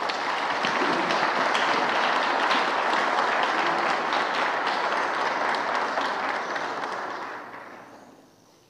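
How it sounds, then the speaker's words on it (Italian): A church congregation applauds during a feast-day Mass for Saint Filippo Smaldone, a dense, sustained roar of many hands clapping in a large hall that fades out near the end. "Grazie anche attraverso questo applauso."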